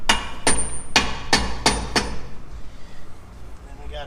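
A hammer driving new bushings into a Henderson lift axle: six sharp, ringing metal blows at a steady pace about half a second apart, then a quieter stretch.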